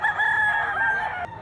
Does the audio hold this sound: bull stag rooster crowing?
yes